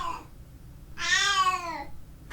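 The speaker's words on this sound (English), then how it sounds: "So that's my cat." A pet cat gives one drawn-out, close, clear meow near the middle, with a brief softer chirp just before it and quiet room background around it.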